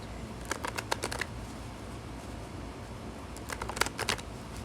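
Tarot cards shuffled and pulled from the deck, two quick clusters of crisp riffling flicks separated by a quiet pause, close and fairly soft.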